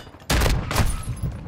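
A Bryson 890 shotgun fired in a first-person shooter game, two loud close blasts about half a second apart followed by a fainter third report.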